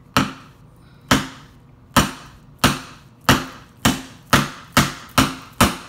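Sharp repeated hammer strikes on hard seafood shells, about a dozen blows speeding up slightly, close and loud with no talking.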